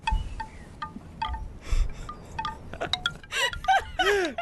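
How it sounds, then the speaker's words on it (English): Wind chimes ring in scattered, tinkling strikes that grow busier toward the end, over a soft breath of wind. "We're going wind chimes."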